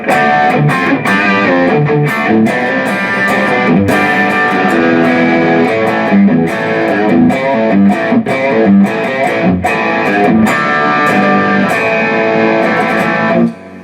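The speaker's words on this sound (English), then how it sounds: "this has got a pretty heavy distortion" A heavily distorted electric guitar through a Boss Katana Artist MkII amp's lead channel plays loud, sustained chords and riffs with a thick, saturated tone throughout.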